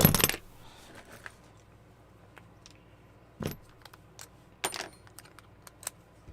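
Metal tools are pulled out of a bag in a workshop, with a loud clatter at the start followed by scattered jangling clinks and knocks close by.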